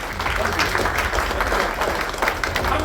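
A crowd claps and applauds steadily, loud and dense throughout, with faint cheering mixed in.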